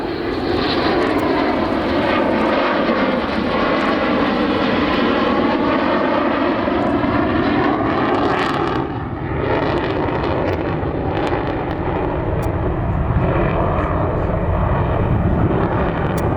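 A Saab Viggen jet fighter roars past low and loud on a slow pass, a sustained heavy engine rumble with a shifting whine, steady throughout and no voices.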